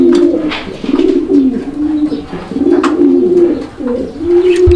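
A domestic pigeon coos close by in repeated low rolling phrases, strong and clear, with faint background noise and no talking.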